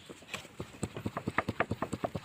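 Horse hooves clip-clop in a steady, quickening trot, a rapid run of sharp, fairly close knocks on a rural farm.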